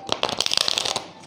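Tarot cards are laid out one at a time in a rapid run of crisp, close slaps and shuffles that last about a second, then fade off.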